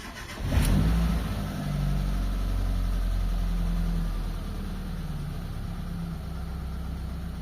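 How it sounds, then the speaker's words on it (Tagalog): A Mitsubishi Lancer GSR that had been misfiring and losing power cranks and fires up close by, with a sharp start and brief rev, then settles into a steady, slightly uneven idle with no talking. "Yan mga bossing, umandar na yung makina natin."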